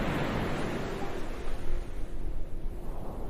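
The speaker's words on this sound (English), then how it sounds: "Serene ocean waves." Serene ocean waves make a steady broadband wash of surf, with soft swells rising and falling under a constant hiss and no voices.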